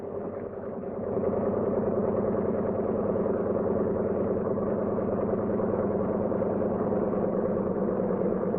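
Radial engines of a C-47 Skytrain idle at about 1,000 RPM, a steady rumbling drone with a rhythmic pulse that swells slightly in the first second, then holds even and close with no voices.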